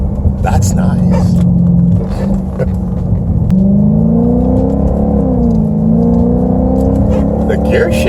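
A 2012 Hyundai Genesis R-Spec with a MagnaFlow exhaust, heard from inside the cabin with the windows up: a steady, loud engine drone that climbs in pitch as the car accelerates.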